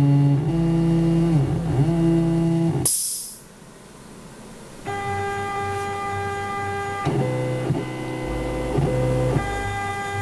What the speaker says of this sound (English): The icing printer is very happy to keep on doing this all day